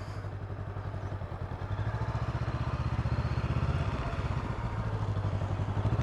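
Motorcycle ridden slowly around offset cones, its engine a close, steady pulsing thrum that grows louder and rougher partway through as throttle rises, with no talk over it.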